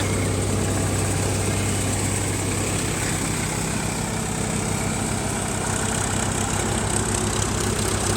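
A heavy diesel tractor engine idles loudly and steadily nearby, a constant low rumbling throb with rattling vibration, no voices.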